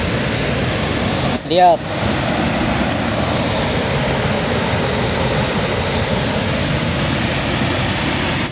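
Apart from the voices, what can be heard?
waterfall beside a river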